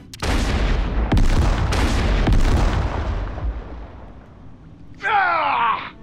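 A loud explosion in the video game Xenoblade Chronicles 3: a heavy boom with rumbling blasts rolling on for several seconds, then a short burst of bright crackling effects near the end.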